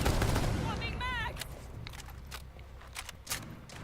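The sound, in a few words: Ela's gun firing in Rainbow Six Siege video game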